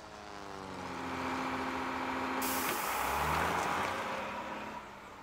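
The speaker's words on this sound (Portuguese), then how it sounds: "aquele caminhão faz mesmo um barulho enorme" A loud truck rumbles past close by, swelling to a heavy roar with a hiss partway through, then fading slightly as it moves on.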